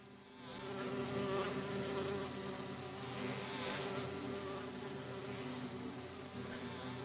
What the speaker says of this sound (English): There's too many bees.